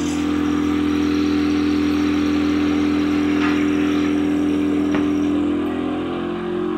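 A cupping therapy machine runs with a steady, loud motor hum and drone that holds evenly throughout, easing slightly near the end.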